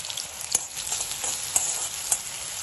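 Onions frying in oil in a pan for a Hyderabadi boti fry, a close steady sizzle with a few sharp crackles and stirring scrapes.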